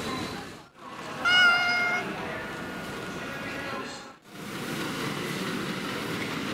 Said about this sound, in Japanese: またあったわね猫畜生